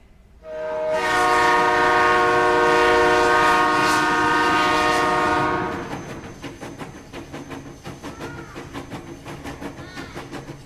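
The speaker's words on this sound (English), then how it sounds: "listen to this and see if you can guess what this train might be saying" A train horn blasts a long, loud sustained chord for about five seconds, then cuts off, leaving a quieter rhythmic clatter of rail cars rolling past.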